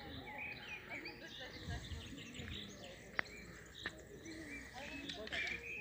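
Soft pigeon cooing repeats in the background of a spring park with many trees, mixed with other birds chirping and faint outdoor ambience.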